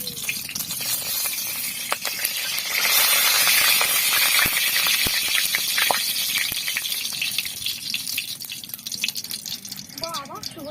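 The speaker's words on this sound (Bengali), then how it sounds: "এখন পনির ভাজা কড়াইতে আমি তেল দিয়ে দেব।" Oil poured into a hot wok just used for frying paneer gives a steady broadband sizzle with scattered crackles and pops, fairly close and continuous for the whole stretch, swelling slightly midway and easing toward the end.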